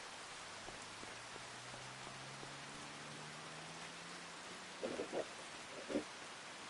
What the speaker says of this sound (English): Get the rain splash on the road here.